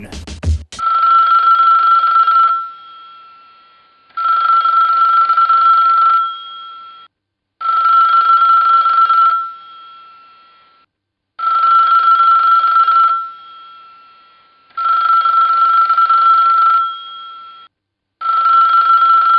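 A telephone bell rings in six long, even bursts separated by short pauses, loud and close with no voices over it.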